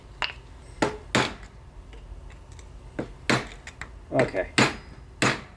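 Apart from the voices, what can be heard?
hammering out a tractor axle bushing with a bushing driver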